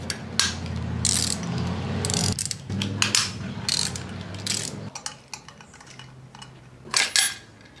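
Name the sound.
ratchet removing 10mm bolts from an engine pipe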